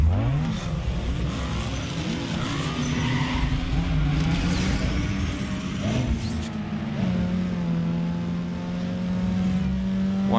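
Tuned street-racing car engine in Need For Speed Underground 2, loud and close, revving hard through rising gear sweeps, hitting the rev limiter and droning steadily at high revs.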